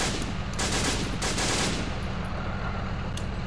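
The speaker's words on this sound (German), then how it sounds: "Ja, Explosion, da ist irgendwas explodiert." Distant explosion with crackling gunfire-like bursts in the military video game Arma 3, a dense rattling roar with a few sharper cracks fading into a rumbling tail.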